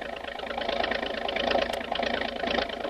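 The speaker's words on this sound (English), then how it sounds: "motor starts up with a roar, and the speedy motorboat hurls through the water" A motorboat engine drones steadily in a radio drama sound effect, a loud, continuous mid-pitched roar with no voices over it.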